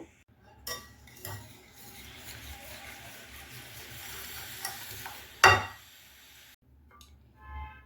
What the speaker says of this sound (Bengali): আমি 100 গ্রাম দই আর হাফ কাপ জ্যাগারি পাউডার নিয়েছি। নিয়ে খুব ভালো করে মিশিয়ে নেব।